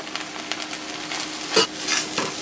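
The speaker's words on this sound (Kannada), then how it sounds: "ಕಾಯಿನ ಹಾಕ್ಬಿಟ್ಟು ಚೆನ್ನಾಗಿ ಈ ಥರ ಒಂದ್ಸಲ ಮಿಕ್ಸ್ ಮಾಡಿದ್ಮೇಲೆ ಸ್ಟವ್ ಆಫ್ ಮಾಡಿಬಿಡಿ" Greens palya with grated coconut stirred in a pan, soft scraping strokes over a gentle sizzle, with a couple of louder utensil scrapes, close and without talk.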